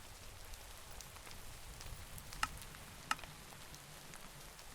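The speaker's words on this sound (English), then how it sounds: "Love a good rain sound as much as the next guy, but that was getting a little loud." Steady rain patters across a surface, a soft broadband hiss with a couple of sharp drip ticks standing out near the middle.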